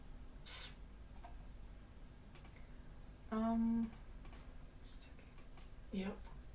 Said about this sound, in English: I probably won't be typing as much this time around.